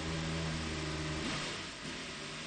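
A race car engine revs at the Circuit of the Americas during a Le Mans-style endurance race with its gearbox stuck in neutral, a steady droning note that dips briefly and rises again, heard without talk.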